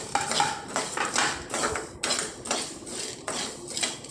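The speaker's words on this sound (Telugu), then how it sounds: "సిమ్ములో పెట్టుకొని వేయించుకోవాలి" Chana dal and urad dal roasting in a pan on low flame as a metal spoon scrapes and stirs them, repeated rhythmic clattering strokes, close and fairly loud.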